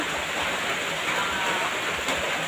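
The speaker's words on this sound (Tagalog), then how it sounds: "umuulan man mga idol, dito muna ako nagpapahinga" Steady rain falling outdoors, a dense continuous hiss with no clear drops standing out, constant and moderately loud throughout with no voices.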